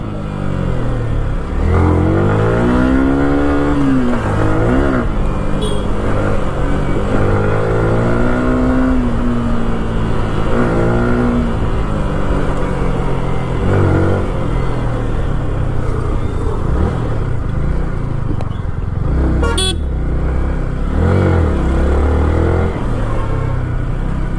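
A second-hand Yamaha R15 motorcycle engine revs loud and close, its pitch rising and falling in repeated throttle blips over a continuous idle rumble.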